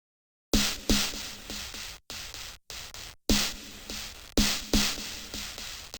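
A second counter snare for a lo-fi beat in FL Studio, played as a string of crisp, noisy hits with quick decays, some in close pairs, with short gaps between phrases and no talking.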